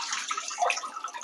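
Water rushes up through a faulty Fluidmaster fill valve in a running toilet, a close, steady splashing and gurgling flow with no speech over it.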